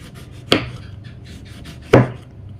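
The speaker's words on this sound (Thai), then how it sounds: "ขั้นตอนต่อไปเราก็จะมาหั่นมะกรูด มะกรูดของเราก็จะมีหั่นเอาแต่ผิวนะคะ" Two sharp knife chops slice kaffir lime peel on a board, spaced about a second and a half apart, crisp and close with quiet room tone between.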